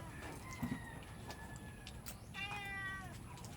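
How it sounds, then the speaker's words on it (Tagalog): A domestic cat meows a few times indoors, with the longer, clearer meow near the end, over low background noise and without speech. "yun sana may pusa kami dito"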